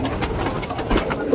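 Pigeons cooing at a pigeon seller's place in Brebes, Central Java, a soft cluster of low coos repeating close by over steady background noise with no talking.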